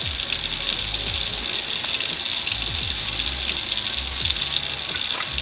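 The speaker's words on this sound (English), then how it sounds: "you guys want to turn on the hot water and leave it on for a minute" Hot water runs steadily from a kitchen sink tap into the drain above a garbage disposal, making a loud, continuous gushing hiss with no talk over it.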